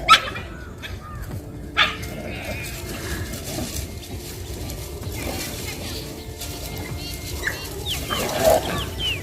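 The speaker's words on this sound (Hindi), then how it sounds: "कुत्तों में कुत्तों से हो गया लड़ाई।" Dogs barking and scuffling far off across a maize field in a village, with sharp barks and whimpers over steady outdoor background noise, while a person talks nearby.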